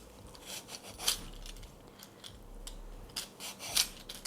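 An eggplant is sliced for a summer baked dish, with soft, crisp cutting strokes and faint rasping scrapes repeating close by at a quiet level, with no talking.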